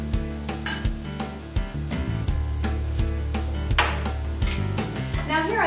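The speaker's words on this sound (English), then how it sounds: "now it's time to remove that lemon zest and also the thyme sprigs" Metal utensils clink and scrape against a pot as lemon zest and thyme sprigs are fished out of a simmering bisque, with repeated sharp clinks over a steady low cooking hum.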